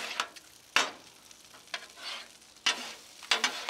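Gravy stirred on a Blackstone griddle, a quiet background sizzle broken by several sharp scraping strokes of a spatula at irregular intervals.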